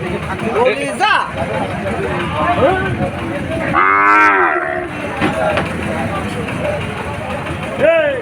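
A cow at a busy cattle market gives several loud, close moos, the longest in the middle, over a background of crowd chatter and people talking.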